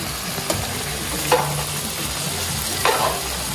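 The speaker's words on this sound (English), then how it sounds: "it's still cooking and it's still frying up in the pot there" Duck curry fries in a pot in a Guyanese kitchen, giving a steady close sizzle with a few brief stirring scrapes and clinks over the constant bubbling hiss.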